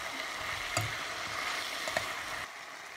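Pork ribs for asado, with bay leaf and peppercorns, are stirred in a pan, giving a soft, steady sizzle with a few light scraping knocks of the utensil.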